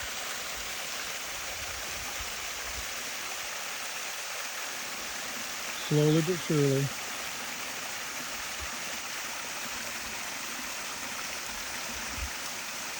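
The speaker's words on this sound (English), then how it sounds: "there'll be some water up here. It'll kind of fill the river." Water flows into a garden stream with a steady, even trickle and rush that stays constant throughout. Someone speaks once, briefly, partway through.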